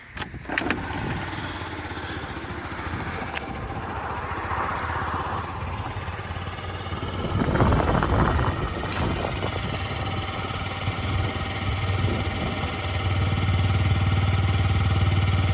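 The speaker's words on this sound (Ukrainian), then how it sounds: "Тихенько, м'якенько працює двигун" A Yamaha Vox 49cc fuel-injected scooter engine idles steadily nearby in frosty weather, a continuous puttering hum that grows slightly louder partway through, with occasional clicks and rattles.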